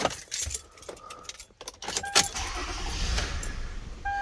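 A 2007 Toyota Camry 3.5L V6 started after an alternator replacement: keys jangle and the door and cabin rustle, then the engine cranks and settles into a low, steady idle, close by with no talk.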